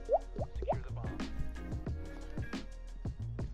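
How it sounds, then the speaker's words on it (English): A leaking faucet drips in a quick, irregular run of small plops and watery taps, faint and close in a quiet room. "I think my faucet is leaking."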